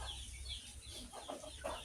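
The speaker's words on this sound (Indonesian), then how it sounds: "di video kali ini kita kasih makan ayam kampung kita ya" Free-range village chickens gather to be fed at morning, giving soft, scattered clucks and low murmuring calls at close range over a faint outdoor background.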